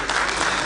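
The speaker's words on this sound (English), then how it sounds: "I think he needs a round of applause." A round of applause for a speaker at a Federal University Otuoke ceremony in Bayelsa State, a brief dense burst of many hands clapping steadily throughout.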